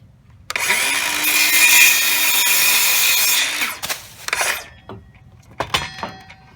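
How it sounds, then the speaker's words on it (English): A power saw whines steadily through wood for a few seconds, then stops, followed by scattered clunks and knocks. "got my saw. Go ahead and make that cut."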